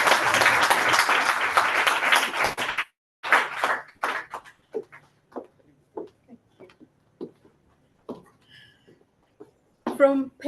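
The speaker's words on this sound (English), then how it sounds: "clap." Toastmasters club members clapping in a loud burst for almost three seconds, then scattered voices and short sounds in a quiet room, with a brief return of activity at the end.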